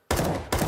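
SMG fire in a competitive Counter-Strike match, two short rapid bursts of automatic gunfire close together, loud and with no talk over them.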